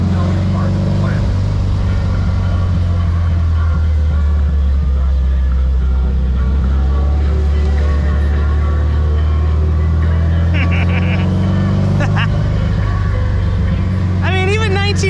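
A 1957 Porsche 356 Speedster drives on a road in Hawaii, its low engine drone and road rumble steady throughout while someone talks over it.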